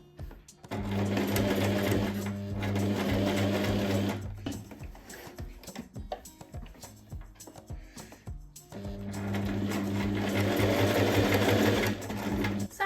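A sewing machine stitches a fabric scrunchie in two loud, close, steady bursts of rapid mechanical whirring, separated by a quieter stretch of handling noises.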